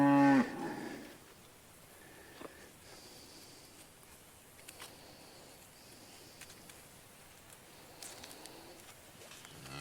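One cow gives a single loud moo at the start on a farm during a drought. A long stretch of quiet outdoor background follows, with faint scattered bird sounds.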